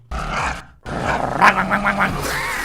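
A small chihuahua growls and snarls in a Friday Night Funkin cartoon, a short gruff rumble that breaks off, then a longer throaty growl with rising yips, loud and close over busy cartoon sound.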